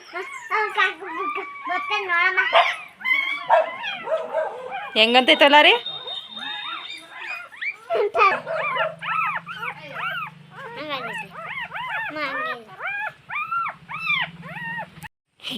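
A puppy yips, whimpers and lets out short howling cries in rapid, uneven bursts close by. People talk over and between the cries, and a low hum runs underneath in the second half.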